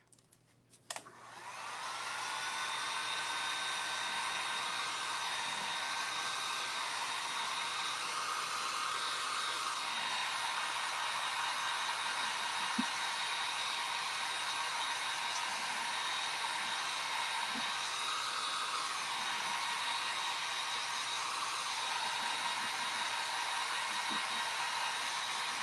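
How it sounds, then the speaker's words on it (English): A heat gun blows steadily and continuously while drying milk paint on Christmas ornaments, a constant close whooshing hum after a brief click at switch-on. "I'm going to go ahead and grab our heat gun real quick"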